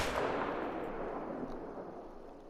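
In a mule deer hunting video game, a loud rifle shot's booming echo rolls away and slowly decays, a broad rumble fading over a couple of seconds with nothing else heard.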